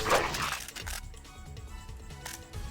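A guard dog in the video game Deus Ex barks in a few short, sharp yaps, loud at first and then quieter, over faint game ambience.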